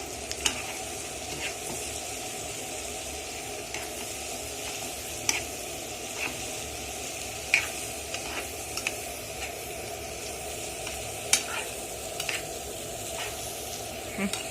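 Chunks of Alexandrian-style beef liver sauté in a pan with their marinade, a steady close sizzle with scattered clicks and taps of stirring throughout, no voices.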